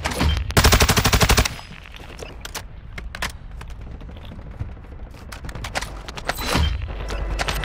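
Warzone gunfire: a loud, rapid automatic burst up close, then scattered single shots and distant cracks, with another fast volley near the end.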